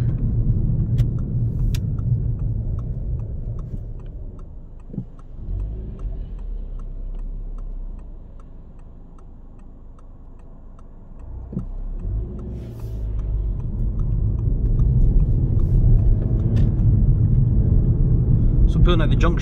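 A 2-litre Audi TT on a test drive gives a low engine rumble that dips, quietens around the middle and swells again as it pulls away, with a ticking indicator and someone talking over it.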